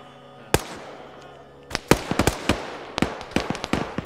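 Gunfire in a military video game set in Afghanistan, with sharp, loud shots in an irregular cluster: a single early crack, a pause, then a rapid string of reports.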